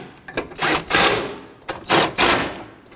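Ratchet clicks in bursts while snugging up the starter bolts on a 2013-2020 Nissan Pathfinder, with four quick runs of close, crisp ratcheting and short pauses between them.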